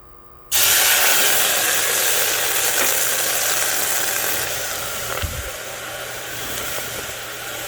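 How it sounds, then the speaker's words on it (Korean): Water poured onto an empty pot heated on an induction hob erupts into a loud, sudden hiss of sizzling steam, then keeps roaring steadily and slowly fades. "10초간 가열하고 그 위에다가 물을 한번 부어 보겠습니다."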